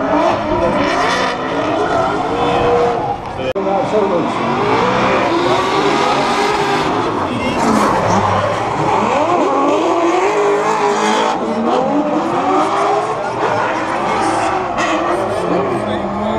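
Drift cars slide deep along a concrete wall at a drift competition in Estonia, with loud, continuous engine roar and tire squeal running the whole time under a commentator's talk.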